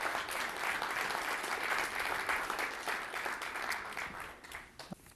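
Audience at a Rotary performing arts competition gives a sustained round of dense applause, fairly distant and soft, thinning out toward the end with a few last claps.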